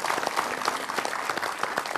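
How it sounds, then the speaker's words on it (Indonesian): Steady applause from a crowd, dense clapping throughout with no pauses. "Kita beri tepuk tangan yang meriah."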